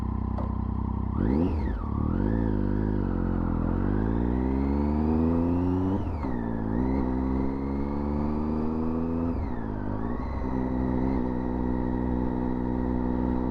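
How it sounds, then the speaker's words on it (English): Motorcycle ridden on a road, its engine revving up and down through several gear changes with rising and falling pitch, steady and close throughout with continuous wind noise and no talk. "So yeah, it's nice to be back out on the bike."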